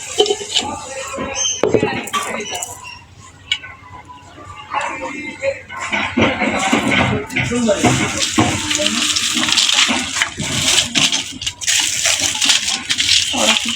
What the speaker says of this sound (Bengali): পানি ঢাল দেবো আমরা